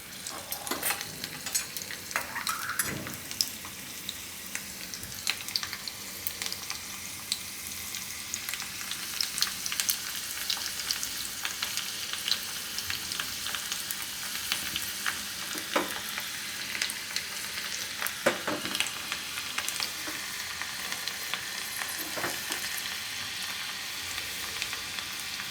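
Garlic frying in hot oil gives a continuous dense crackling sizzle for the whole stretch, fairly loud and close, with occasional sharper pops and no voices.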